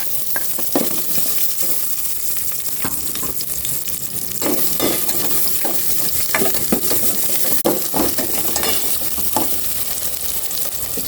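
Onion and garlic sautéing in a hot pan, a steady loud sizzle with repeated scraping stir strokes every second or so, no voices.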